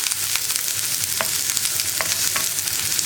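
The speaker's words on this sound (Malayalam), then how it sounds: "ചേർക്കുന്നത് ഒരു 4-5 ഇതിൽ കറിവേപ്പില. ഇതൊന്ന് ഇളക്കി കൊടുക്കുക." Curry leaves fry in a pan with sliced onion, a bright continuous sizzle broken by quick scraping strokes of a spoon, close and loud with no talking.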